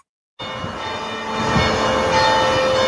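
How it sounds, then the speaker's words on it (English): Dense, continuous ringing of church bells at the Old Cathedral and across the St. Louis region, sustained metallic tones layered together, steady and fairly loud after a brief silent start. "Those are bells ringing in celebration at the Old Cathedral and across the St. Louis region."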